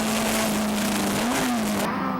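Super Mini race car at Pukekohe shifting down through the gears, a loud steady engine drone close by that dips and rises briefly as it changes gear.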